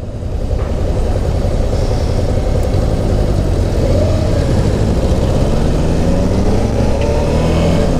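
Loud, close four-cylinder car engine running continuously, with its pitch rising and falling as it revs.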